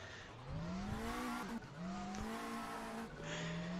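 A race car with a 1.6 liter turbo engine, stuck in trackside barriers, revs hard in three rising surges with brief drops between them. The engine is close and loud throughout, with no voices.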